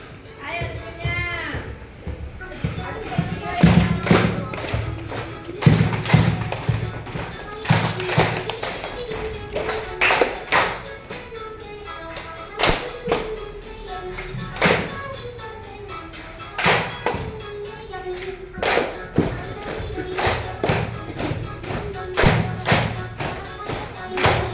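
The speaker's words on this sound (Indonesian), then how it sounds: "tepuk tangan buat kita semuanya berjuang Pak" A group claps in bursts of sharp, close hand claps at a school gathering, with uneven rhythms rising and falling and voices talking in between.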